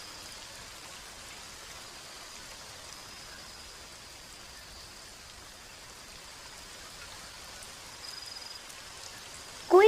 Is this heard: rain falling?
yes